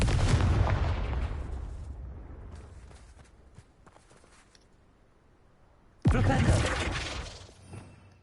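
Confringo blasting spell in the Hogwarts Legacy game: a loud explosive burst that decays over two seconds, scattered crackles and debris, then a second sharp blast near the end, with no talking.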